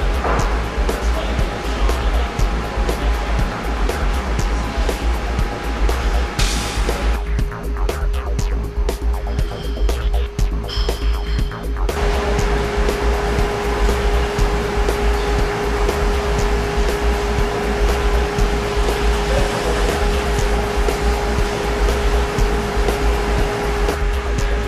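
A 20-barrel brew house at a brewery fills the space with a constant loud mechanical rush and whir, a steady tone humming beneath, briefly dipping before the roar returns.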